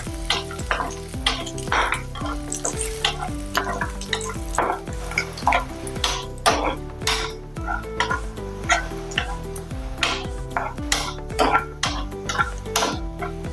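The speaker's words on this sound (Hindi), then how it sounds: "नारियल को भी अच्छे से भुना है हमने।" Dried coconut roasts in a pan on the stove, giving a soft continuous sizzle broken by frequent scraping stirs, with steady tonal music running underneath.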